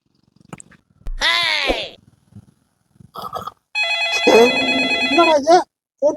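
An outgoing phone call rings back with one sustained electronic ringing tone, loud and close, after a few scattered short sounds.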